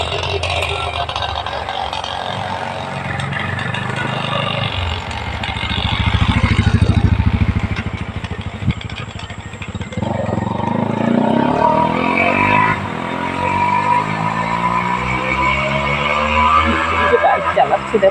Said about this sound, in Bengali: বাইক চালাচ্ছি দেখো